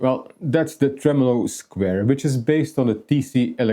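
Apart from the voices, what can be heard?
No distinct noise like a dog, phone or traffic.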